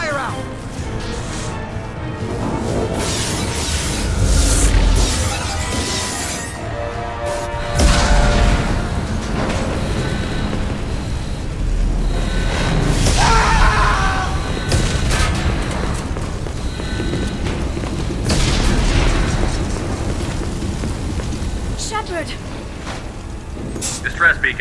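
Mass Effect 2 starship under attack: booming explosions, crashing impacts and hull-breach rumble play continuously under urgent shouted voices and alarms, loud and dense throughout.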